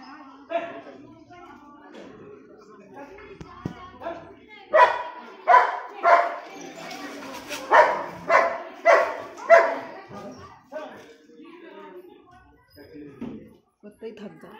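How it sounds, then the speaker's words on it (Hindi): A dog barks in a series of loud, close yelps grouped in the middle of the passage, with people talking before and after. "कुत्ता ही थक गया कुत्ता बेचारा भौंकदा भौंकदा थक गया"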